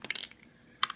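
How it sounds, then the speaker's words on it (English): Dice for an APBA baseball board game rattle and clatter briefly on a hard surface, two quick bursts of small clicks separated by a short pause, close and fairly faint. "so we roll the dice again"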